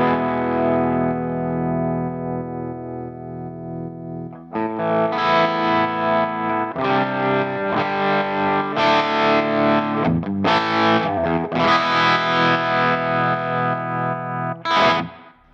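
An electric guitar plays through a Line 6 Metallurgy pedal emulating a Fender-style amp with shimmering reverb and pulsing tremolo, sustained chords followed by rhythmic strummed phrases.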